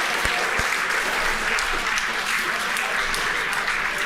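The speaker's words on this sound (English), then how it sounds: "Please clap." Sustained applause from a crowd after a SpaceX Falcon 9 booster touches down on the drone ship during a Starlink mission, dense continuous clapping with a few sharp thumps, a commentator speaking faintly.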